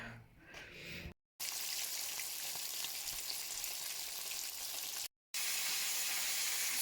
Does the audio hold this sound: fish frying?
yes